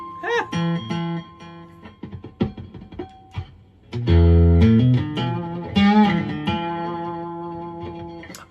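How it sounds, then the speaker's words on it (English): Harsh, heavily distorted plucked notes and chords from a Dean Zelinsky La Voce guitar's piezo pickup, sustained and buzzy, with a few sparse strums before louder ringing chords. "I'm doing the piezo through the crazy distortion"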